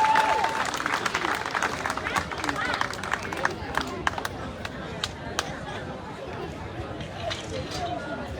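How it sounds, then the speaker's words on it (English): Audience applause at a neighborhood awards ceremony, a steady wash of clapping from a crowd that holds for several seconds and thins toward the end, with scattered sharper claps standing out. "Please give Lily's Pad a big round of applause."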